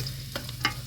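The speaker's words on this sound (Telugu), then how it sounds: "ఈ కూరలోకి అయితే కొంచెం మామూలుగా వేగితే చాలు ఉల్లిగడ్డ." Sliced onions fry gently in a pan for a potato curry, giving a soft steady sizzle with a couple of light stirring scrapes, close and brief, with no talking.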